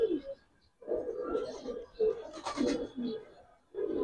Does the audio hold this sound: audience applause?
no